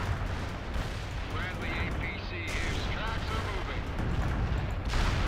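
Machine gun fortification being gunned down in the World in Conflict game, with dense, continuous gunfire and booming battle noise rumbling throughout under a busy, layered mix.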